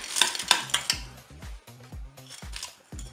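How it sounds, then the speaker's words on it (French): Frozen button mushrooms drop into a Cookeo multicooker pot for a spaghetti, asparagus and ham dish, giving a string of close knocks, clatters and light rattles of hard pieces hitting the metal bowl, with no talk. "Ensuite, on va mettre les champignons de Paris."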